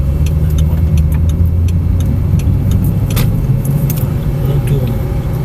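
A Ferrari sports car on a driving course, its engine giving a loud, steady, low rumble close by with small rattles on top. The pitch rises only slightly, and a faint voice can be heard in places.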